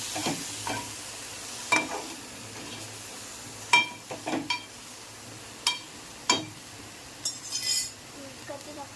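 Pasta with tomato sizzling in a pan while being mixed, a faint background sizzle broken by sharp clinks and scrapes of a utensil against the pan, with some quiet talk.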